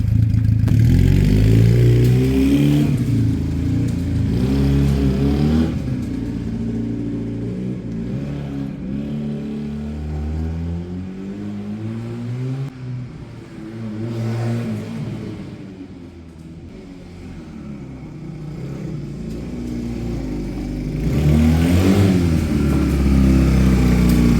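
A Sinnis Cruisestar 125cc motorcycle being ridden, engine note rising and falling through gears with loud revving surges and steady droning stretches, close to the rider, no talk.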